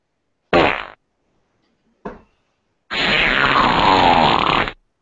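Three loud, close fart sounds come in quick succession: a short blast, a tiny squeak, then a long sustained buzzing one that wavers in pitch.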